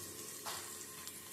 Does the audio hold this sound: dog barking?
no